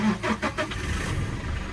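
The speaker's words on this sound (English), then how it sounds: "I'm gonna turn on the truck" A truck engine cranks with a few quick pulses, then settles into a rough, steady idle. Close, no speech.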